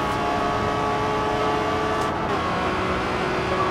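In Forza Horizon 2, an Aston Martin One-77 tuned past 1000 hp runs at full throttle, a loud, steady engine drone that holds unbroken with only slight shifts in pitch.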